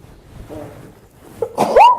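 A single sudden sneeze bursts out at the end after a quiet stretch with faint murmuring, loud and close.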